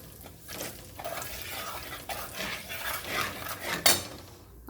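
Turmeric and red chilli powder being stirred in a pan for a fish dish, a steady scraping and rubbing of utensil against metal with a sharper clink near the end, moderately loud and close with no talking.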